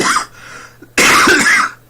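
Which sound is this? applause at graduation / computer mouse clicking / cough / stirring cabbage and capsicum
cough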